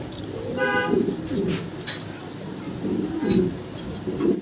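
White Mundi pigeons in cages coo in soft, low, repeated phrases, close by, with a few faint chirps from other birds in the background.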